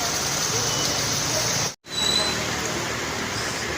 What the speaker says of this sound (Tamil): அவ்வளோ ஒரு மழை